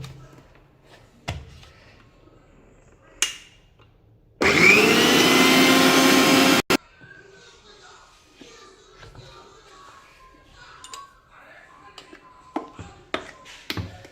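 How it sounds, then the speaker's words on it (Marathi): A kitchen mixer grinder grinding garlic and ginger into paste switches on for a loud, steady whir of about two seconds, then cuts off abruptly. Scattered taps, clinks and quiet speech surround the burst. "असं चमच्याने कालवूनच आपण चालू बंद करून हे दळून घ्यायचं आहे सर्व."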